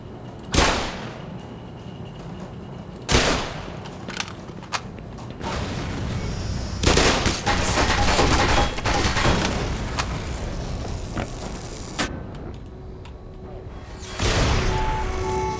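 Explosives and gunfire in the Black Mesa video game: several sharp, loud blasts with long echoing tails, separated by stretches of rumbling combat noise and scattered smaller bangs.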